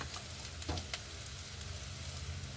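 Roasted semolina is added bit by bit to softened ingredients in a frying pan for upma, with a soft steady sizzle and a few light scraping stirs, no talking.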